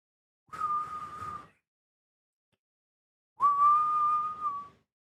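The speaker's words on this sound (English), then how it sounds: "I'm whistling" A person whistles two sustained, steady notes, a short one and then a longer one, separated by silence.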